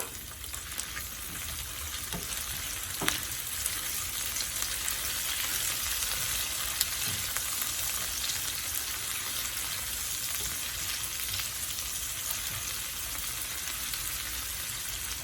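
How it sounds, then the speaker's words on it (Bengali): Prawns fry in oil with lightly browned onion and garlic, a steady, close, hissing sizzle that runs without a break, dotted with a few faint pops and clicks and no voices. "পেঁয়াজটা রসুনটা আমার হালকা ভাজা হয়ে গেছে এখন আমি দিচ্ছি আমার চিংড়ি মাছ"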